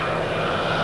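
A Curtiss Hawk propeller plane's 700-horsepower engine drones steadily and loudly, a dense, unbroken roar with no voices.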